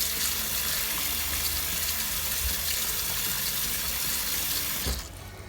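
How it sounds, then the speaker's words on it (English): Steady tap water runs loud and broadband over a freshly dyed top in a sink, rinsing washing-up liquid out of the fabric, then cuts off sharply near the end. "And some more water just to rinse out the washing up liquid."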